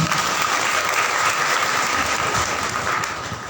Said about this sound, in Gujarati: પ્રતીક્ષાબેન માટે જોરદાર તાળીઓ